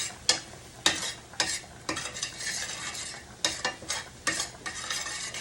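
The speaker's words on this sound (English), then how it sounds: "I'm going to stir it up quickly so it's nice and smooth." A roux being stirred in a pan for a fish pie, with rhythmic scraping strokes of a utensil against the pan and a soft sizzle underneath, close and steady.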